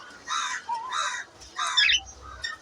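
A tame female cockatiel in an aviary gives several harsh, squawking calls in quick succession, close and fairly loud, with no talking.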